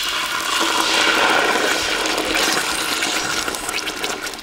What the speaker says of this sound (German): Als nächstes geben wir jetzt unsere passierten Tomaten dazu.